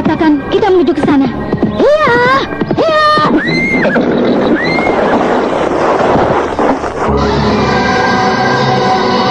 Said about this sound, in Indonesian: Kuda ini berjalan sudah tidak terlalu cepat.